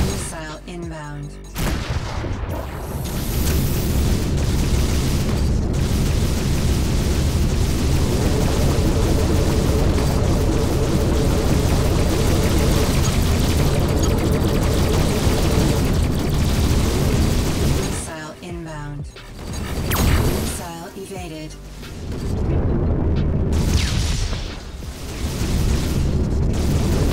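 Missile explosions rumble and boom in Rebel Galaxy Outlaw space combat, a dense loud barrage of blasts and engine roar running almost throughout, with brief drops in intensity near the end.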